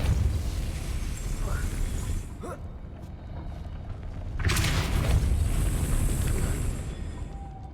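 Depulso force spell cast in Hogwarts Legacy, a sudden whooshing blast that swells midway and rolls on, following an earlier softer swish, over a low rumbling game ambience.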